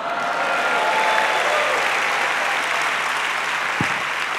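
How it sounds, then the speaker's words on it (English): Sustained applause and cheering from a large audience at the opening plenary of a world forum, a dense steady wash of clapping and shouts with no speech over it. "can I have another cheer for my wife?"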